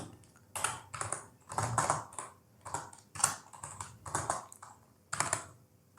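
Rapid bursts of keystrokes on a computer keyboard while writing HTML code, loud and close, in uneven clusters with short pauses and no talking.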